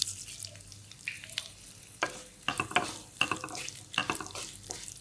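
Curry leaves, green chillies and sesame seeds sauté in hot oil. A soft sizzle is broken by bursts of crackling and the clatter of stirring, close by, with no talking.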